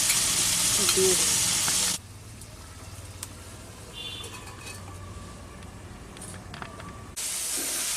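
Chicken pieces sautéing in hot oil for a mustard-paste curry, a steady loud sizzle that drops to a quieter simmering hiss in the middle before surging back.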